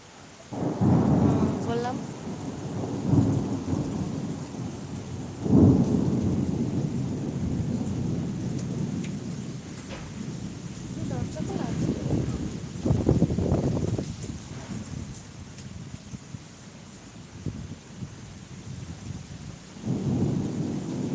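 Low rolls of thunder rumble repeatedly over steady rain and gusting wind during a Kolkata thunderstorm, with a few faint voices in the background.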